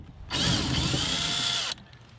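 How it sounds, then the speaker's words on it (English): A power tool with a 10 mm socket runs a steady whine on a nut of a BMW F30 for about one and a half seconds, then cuts off abruptly. It sounds close and loud, with no talking. "we're going to remove this 10 millimeter nut"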